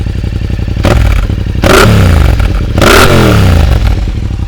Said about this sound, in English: we'll give you a bit of a start up and you can hear the engine